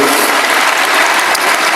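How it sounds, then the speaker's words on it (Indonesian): A church congregation applauds loudly during a worship service, a dense, continuous wall of clapping close and full throughout, with no voices above it. "Berikan tepuk tangan kita untuk Tuhan kita."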